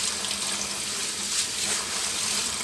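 Rice rinsed in a mesh strainer under a running kitchen tap, a steady loud rush of water splashing into the sink with no break and no talk.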